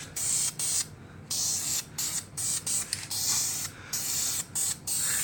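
Spray paint laid onto a 1/25 scale 1940 Willys model body in steady, close hissing bursts, each a second or so long with brief gaps between, with no talking.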